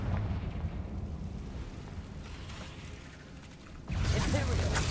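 A Confringo blasting spell explosion in Hogwarts Legacy, a low rumbling burst that fades and is followed by a sudden loud blast near the end.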